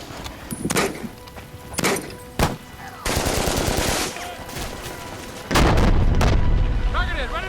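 Machine-gun bursts and heavy gunfire in a loud war film battle scene, with sharp single shots followed by sustained rattling fire and booming blasts, voices shouting in between.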